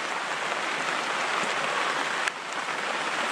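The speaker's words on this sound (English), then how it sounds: "No, it's freezing rain." Steady freezing rain falling on a winter campsite in the Catskills, a constant close hiss of drops with one sharp tap partway through and no voices.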